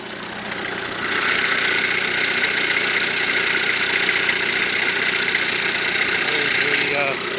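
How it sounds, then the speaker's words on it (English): The diesel engine of a Volkswagen Passat idles with the hood open, recorded up close as a loud, steady mechanical hum with a high whine that starts about a second in and holds evenly throughout. "There's the engine."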